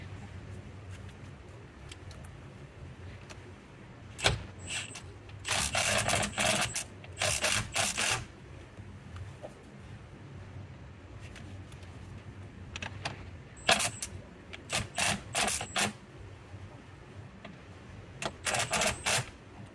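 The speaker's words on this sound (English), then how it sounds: "let's first put in our bolt that holds the steering wheel on, and then we will tighten that up" A ratchet wrench tightens the steering wheel bolt on a 2016-2022 Mercedes, giving several bursts of rapid metallic clicking separated by pauses, close and fairly loud, with faint background noise between strokes.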